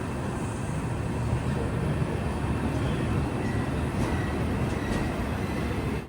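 The Coromandel Express from Chennai to Howrah runs with a loud, steady, broadband rumble and rattle heard from inside the train, continuous throughout with faint higher squeals.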